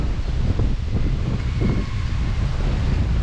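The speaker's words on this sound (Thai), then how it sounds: "ได้ยินแต่เสียง เสียงลมพัดใบไม้เนาะ" Steady wind blowing through leaves on an island in a freshwater lake, a continuous broad rushing roar that buffets the microphone, loud and close with no talking.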